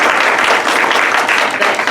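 Dense, steady applause from a community organizing gathering in Monterey County, California, loud and close, a continuous wash of clapping hands with no voices over it.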